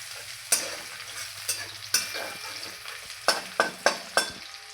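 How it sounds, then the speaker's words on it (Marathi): Crushed garlic frying in hot oil for a dill greens dish: a low sizzle runs underneath while a spatula scrapes and taps the pan in a series of sharp, irregular clatters, with no talking. "लसूण टाकून घेऊया तेल गरम झालेलं आहे लसूण थोडा भाजून घेऊया"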